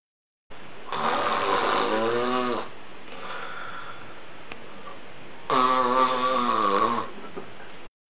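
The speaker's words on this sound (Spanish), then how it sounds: "Esto es roncar." Two long, rasping snores with a quieter breath between them, loud and close, with no one talking.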